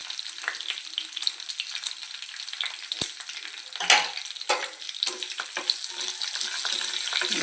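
Dried red chillies and cumin seeds fry in hot oil for a gongura coconut chutney, giving a dense, steady crackling sizzle close up with scattered sharper pops and a few spoon scrapes.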